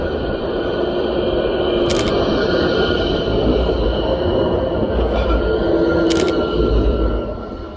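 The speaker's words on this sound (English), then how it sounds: "Okay, there's a tram coming." A tram passes close by on city streets with a loud, steady rumble of wheels on rails, marked by two short sharp squeals or clanks several seconds apart, fading slightly at the end, with no talking.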